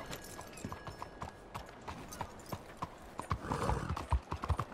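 Horse hooves from Red Dead Redemption 2 clop in a steady walking rhythm, sharp and close, with a brief snort and the pace picking up near the end over faint town ambience.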